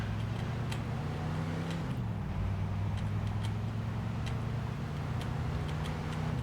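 A van engine from the video game Mafia 2 drones steadily at a constant road speed, a low continuous hum whose pitch dips once partway through, with faint ticking over the top.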